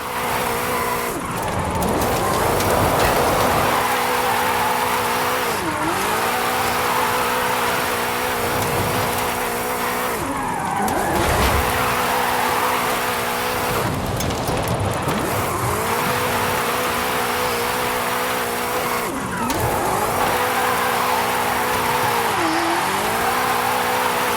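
A 2015 Mustang GT weighing about 1.5 tons drifts in the racing game Forza Horizon 5, its engine droning loud and steady while tires squeal through repeated slides, with pitch dipping and rising as it shifts and revs.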